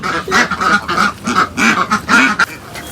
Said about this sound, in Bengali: দর্শক বন্ধুরা দেখতে পাচ্ছেন এই যে আমাদের হাঁস